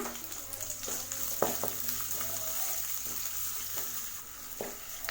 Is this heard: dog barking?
no